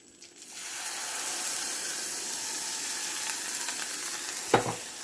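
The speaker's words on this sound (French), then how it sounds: "Et je vais mélanger sans arrêt jusqu'à ce que mon mélange devienne homogène et commence à épaissir." Milk and cornstarch mixture stirred nonstop into melted butter in a pan, giving a steady sizzling, bubbling hiss that swells after a quiet start, with a short knock near the end.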